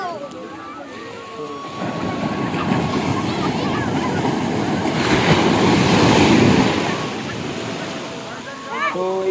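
Sea waves wash up onto the sandy beach at Digha, a broad rushing surf that swells and fades across the clip with wind noise, while people speak nearby.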